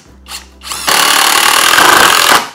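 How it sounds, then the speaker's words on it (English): A power drill drives a screw into timber with no pilot hole, a loud continuous whirring grind after a couple of brief starts, running close and steady for well over a second before stopping. "when putting these screws in, I'll just try and put one in now without a pilot hole"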